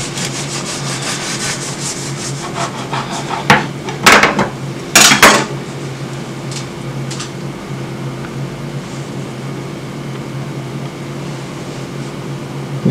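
A knife saws through a freshly baked, still-hot loaf of olive oil bread, making a few rasping strokes in the middle with quieter rubbing before and after.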